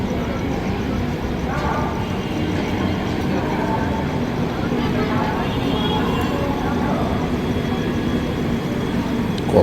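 An Indian passenger train with older 2AC coaches pulls away and rolls along the track, giving a steady, loud rumble of wheels and carriages with faint clatter throughout.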